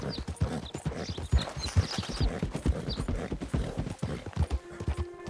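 Horse hooves clatter and skid in Red Dead Redemption 2, a rapid irregular run of clip-clops on hard ground with scuffing slides and a faint whinny, all fairly close and loud.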